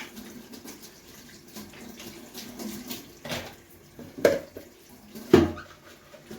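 Water runs from a kitchen tap while greens are washed in the sink, a steady rushing stream broken by a few louder splashes and clatters near the end.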